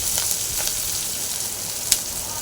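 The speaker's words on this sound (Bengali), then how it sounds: "দিয়ে পেঁয়াজ, ঝাল, রসুন, আদা বাটা সব কিছু তেলে দিয়ে আমি ভালোভাবে ভেজে দিলাম" Onion, chili, garlic and ginger paste fry in oil in a pan for a fish curry, a steady close crackling sizzle with a few brief louder pops and spatters, no talking over it.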